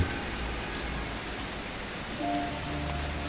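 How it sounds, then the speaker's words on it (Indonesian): Heavy rain falling at night, a steady even hiss of drops on surfaces with no pauses, moderately loud, with a faint tonal hum entering near the end. "Hujan deras turun malam itu, membasahi jalan-jalan kota yang sepi."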